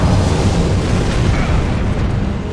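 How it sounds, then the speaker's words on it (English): A loud, continuous roaring explosion in Elden Ring as a boss detonates, a dense rumbling blast that stays powerful for the whole couple of seconds with no talk over it. "I'm not going near his legs because the thing's gonna detonate."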